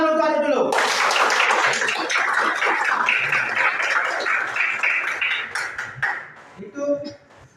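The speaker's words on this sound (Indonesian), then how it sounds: "tepuk tangan dulu Adit dulu." Classroom clapping: a burst of applause from a group of children, dense and sustained for several seconds before trailing off into scattered claps and voices.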